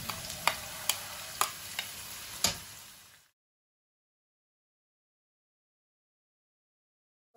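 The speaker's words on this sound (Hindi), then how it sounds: "तो प्याज को फ्राई करते हैं।" Onions frying in oil in a pan give a steady close sizzle with a few sharp stirring clicks for about three seconds, then silence.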